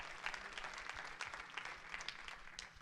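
Church congregation applauding during a Spanish-language worship service, a brief burst of many hands clapping, distant and faint in the room.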